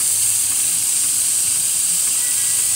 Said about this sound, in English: we're gonna see steam coming out through the wand